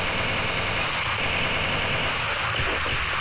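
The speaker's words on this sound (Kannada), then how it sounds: "ಈ AK-47 ಭಾಳ ಸ್ಟ್ರಾಂಗ್ ಐತಿ ಈಗ." AK-47 assault rifle firing in a video game, loud rapid automatic bursts rattling continuously with brief gaps, close and dominant with no talk.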